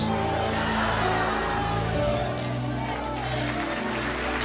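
Congregation applauding during a Portuguese-language church sermon, a dense, continuous wash of clapping from a large crowd with a voice speaking over it.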